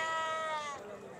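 Goat bleating at a crowded animal market in Talagang, Pakistan ahead of sacrifice, a single wavering cry of about a second that fades near the end.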